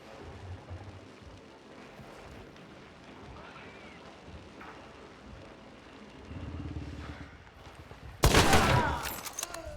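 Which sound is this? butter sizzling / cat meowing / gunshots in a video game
gunshots in a video game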